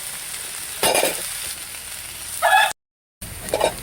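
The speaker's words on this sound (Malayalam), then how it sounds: "അഞ്ചാറ് അല്ലി വെളുത്തുള്ളി നമുക്ക് ഇതിനകത്തിട്ട് വഴറ്റാം" Five or six garlic cloves sautéing in hot oil, a close steady sizzle broken by a few louder bursts of stirring and a brief cut to silence.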